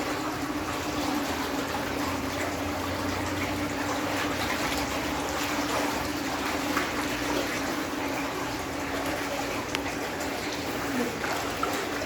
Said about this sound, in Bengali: এই যে ফিল্টারের পানি আইতেছে,